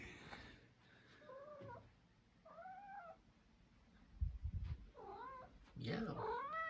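A house cat gives a series of drawn-out, wavering meows, nearby and fairly loud, mixed with some handling noise and a bit of background talk.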